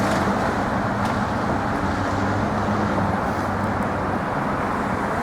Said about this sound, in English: the vehicles coming down off the West Side Highway. They're coming around